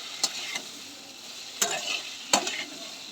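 A spoon stirs onions and potatoes frying in a pan with poppy seed paste, giving a steady sizzle broken by three sharp scraping strokes against the pan.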